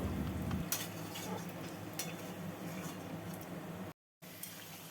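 Chicken cooks in a pan over a high gas flame with a low, steady sizzle, a few light utensil clicks, and a short silent gap near the end.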